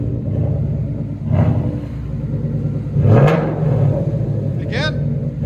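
A Ford Mustang GT's 5.0L Coyote V8 with aftermarket performance exhaust is blipped twice over its idle rumble, each rev rising sharply then falling back, loud and close, with a voice briefly heard near the end.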